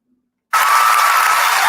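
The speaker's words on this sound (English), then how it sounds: "Applause" Sustained applause from an audience at a TEDx talk, starting abruptly after a brief silence and continuing as dense, steady clapping with no voices.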